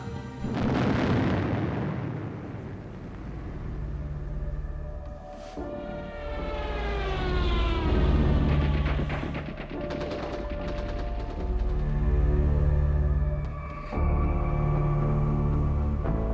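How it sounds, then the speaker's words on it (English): Naval guns opening fire on a warship under wartime orders, heavy booms and sharp bursts crowding a loud, continuous din with ringing tones over rumbling machinery, no voices. "The captain gives the order to open fire."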